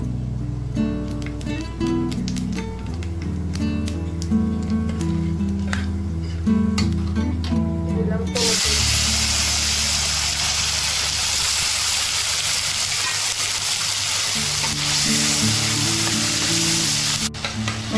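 Nigella seeds are tempered in hot oil left from frying rui fish for a Bengali mustard fish curry. Soft music plays first, then a loud, steady sizzle bursts in and crackles continuously close up with no talk.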